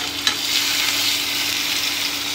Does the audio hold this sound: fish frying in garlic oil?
yes